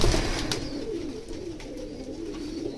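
Pigeons cooing softly and continuously nearby at a pigeon sale in Kathua, Jammu, low murmuring calls over a faint background rustle.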